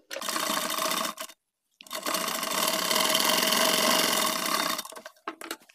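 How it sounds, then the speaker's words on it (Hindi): A sewing machine runs in two long bursts of steady, close-up stitching along a pajama side pocket beside a basting line, with a brief pause between the runs and a few short stitches at the end. "इस कट के हम पेस्टिंग के बराबर से सिलाई लगाते हुए जाएंगे"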